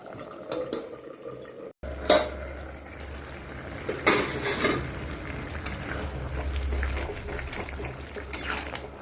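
A metal lid settles onto a cooking pot of simmering green jackfruit and potato curry, giving a few faint clanks over a low background hum in a quiet kitchen.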